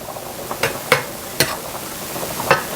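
Marsala chicken sauce is stirred in a pan as it goes back on the heat: a soft sizzle under several light, irregular scrapes and taps of a utensil against the pan, close up with no talking.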